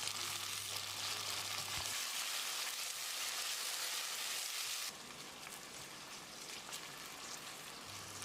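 Chopped tomatoes sizzle with onions in a pan, a steady close hiss of frying that drops slightly in level partway through, with no talking.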